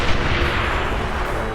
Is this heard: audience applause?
no